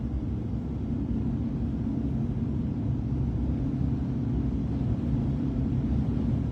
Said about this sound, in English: Oh wow, that was a good gust of wind.